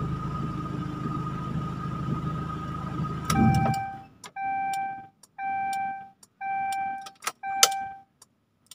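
A Timor DOHC car engine idles, then is switched off and the running drone stops abruptly. Afterward a series of regular chimes or warning beeps sounds in the quiet cabin, along with a few sharp clicks.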